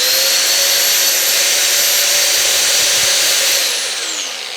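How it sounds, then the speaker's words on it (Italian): A 750 W angle grinder spins up to a loud, steady high-pitched whine and holds it for several seconds before the tone begins to wind down near the end. "vediamo se riusciamo a fare lo spunto di una smerigliatrice da"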